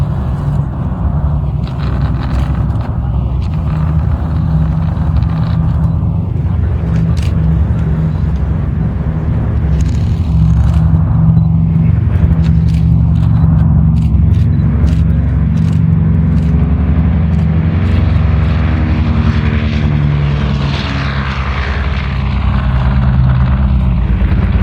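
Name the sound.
B-29 aircraft Fifi taxiing after landing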